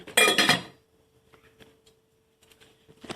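A loud metallic clank of a lid set down on a pot of live shrimp, followed by faint light clinks and a steady quiet hum.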